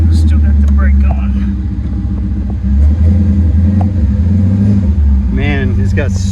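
A 1933 Ford Factory 5 roadster with a Coyote engine and five-speed rumbles loud and close in a deep, steady drone that swells slightly as it revs, while someone talks over it.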